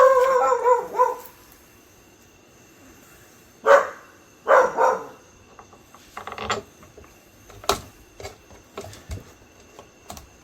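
A dog barks near a 2001 Gheenoe 15'6" Classic boat: a few scattered barks and yelps with pauses, plus light clicks and handling noises in between.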